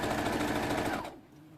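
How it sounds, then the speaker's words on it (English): A sewing machine stitches fabric in a steady rapid run of needle strokes for about a second, then stops abruptly, leaving a quiet room. "I'm just going to stitch across that line that I've just marked at the 2 inch point."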